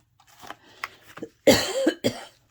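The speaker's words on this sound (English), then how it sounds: "I am still coughing." Two or three harsh coughs close to the mic, preceded by a few soft breaths and small throat noises.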